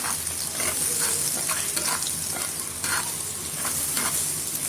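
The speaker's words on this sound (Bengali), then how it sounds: "এগুলো একটু ভেজে নিচ্ছি, কারণ একটা কাঁচা গন্ধ বের হয় আমার মনে হয় পেঁয়াজে, এই জন্য হালকাভাবে আমি এরকম করে ভেজে নিই।" Onions frying lightly in a pan for a bitter gourd and potato stir-fry, a steady close sizzle with soft scraping stirs throughout, no talking.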